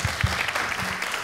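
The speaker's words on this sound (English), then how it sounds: "let's give them a round of applause right now" A chamber music concert audience claps, a brief burst of scattered hand claps with a few louder ones near the start.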